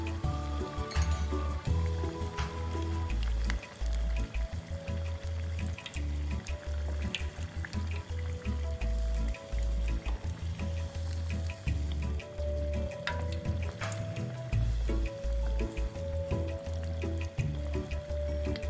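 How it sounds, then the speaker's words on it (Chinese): Dough pieces deep-fry in hot oil until golden for a festive Chinese dish, giving a steady bubbling sizzle throughout with scattered louder crackles and faint clinks of chopsticks turning them. "用双筷子将生坯翻面油炸，确保整体可以均匀上色，一直油炸至成品整个呈金黄色。"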